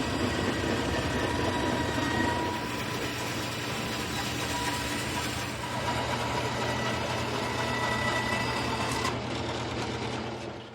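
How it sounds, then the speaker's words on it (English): A bandsaw cuts a wood board straight along its length in a woodworking shop, a loud, sustained mechanical whine and rumble that runs unbroken, then shifts in tone near the end as the cut finishes. "bring it over to the bandsaw and cut it straight"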